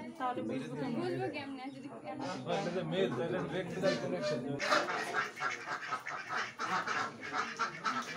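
Pekin and Indian Runner ducks quack and honk in a lively, overlapping flock chorus at a Bangladeshi agricultural university farm, close and continuous, with people talking faintly in the background.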